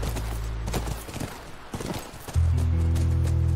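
Horse hooves clip-clopping by a ranch in The Last of Us on PS4, a brief run of hoof beats near the start, followed by a loud sustained tonal hum from the game.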